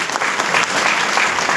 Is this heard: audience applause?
yes